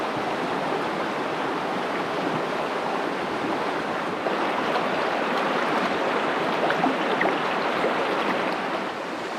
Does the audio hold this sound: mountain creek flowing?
yes